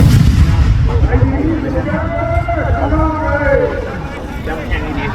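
A large bang fai rocket, a million-size launch at a Thai rocket festival, roars with a deep, rumbling whoosh close by, while a crowd murmurs and a voice talks loudly over it.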